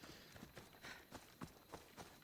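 Horse hooves clip-clop in a steady, even rhythm while riding in Assassin's Creed Odyssey, moderately close and fairly quiet over soft ambient game background.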